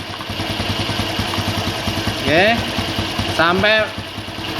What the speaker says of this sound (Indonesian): Ini sudah mulai turun putarannya mesin.